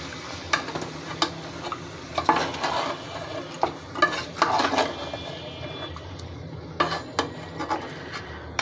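Spiced beef being stirred and mixed in a pot, with intermittent scraping and clinking of a spoon against metal over a soft sizzling background, no talking.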